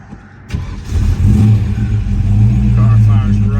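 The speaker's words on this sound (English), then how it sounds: "Car fires right up." A 1967 Shelby GT350 with a Paxton-supercharged 289 HiPo engine and aftermarket exhaust cranks briefly, then catches and settles into a loud, close, rumbling run.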